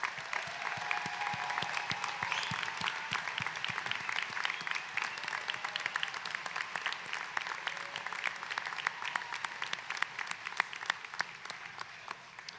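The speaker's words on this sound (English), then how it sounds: "Let's give them one heck of a round of applause" A large commencement audience at a technical college applauds graduates, dense sustained clapping that holds steady at moderate level for the whole stretch.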